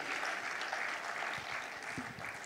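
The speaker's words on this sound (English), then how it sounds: "Can we clap for this energetic young man again?" A conference audience applauds in a short, fairly faint burst of clapping that stays even through the moment.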